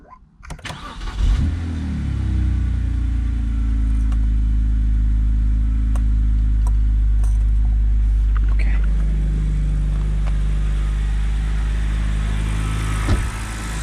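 BMW car engine cranking and catching, then settling into a loud, steady close-up idle with slight revving and small clicks and taps over it.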